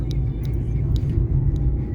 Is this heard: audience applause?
no